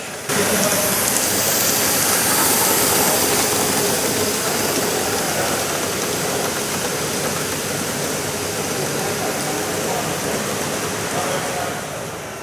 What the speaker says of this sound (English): This is a Chapelon Nord Pacific locomotive, French.